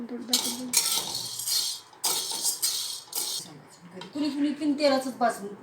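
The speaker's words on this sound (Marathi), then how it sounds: "आता नाकेश्वर आपण मंदाचेवर छानपैकी भाजून घेऊया" Nagkesar spice being dry-roasted in a pan over low heat, with bursts of spatula scraping and clinking against the pan under a speaking voice.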